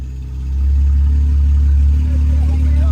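A big-turbo BMW 535i with a full exhaust, a deep, loud engine drone that swells after a short moment and holds steady close by, with no talk over it.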